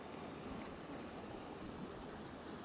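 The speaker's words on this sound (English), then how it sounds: "The waves are really picking up as well." Sea waves wash steadily against the shore on the Isle of Skye in Scotland, giving a continuous, fairly loud broadband rush with no pauses and no voices.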